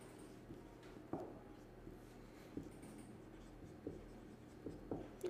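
Numbers being written by hand, a pen or marker scratching steadily across a writing surface with small taps between strokes, faint and close, with no talk over it.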